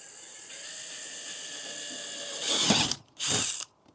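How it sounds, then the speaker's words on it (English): Power drill whirring into a cargo trailer wall, a steady mechanical whine that rises into a harsher grinding burst, cuts out briefly, then kicks in for one more short burst and stops. "So we're just gonna drill through that and see what happens."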